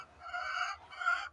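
A Golden Misri hen clucks twice in quick succession, close by and fairly soft, with no other sounds around.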